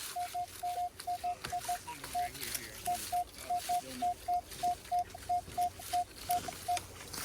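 Metal detector sweeping at the base of a tree over a buried coin or can, giving a run of short, evenly spaced beeps of the same pitch over faint background rustle.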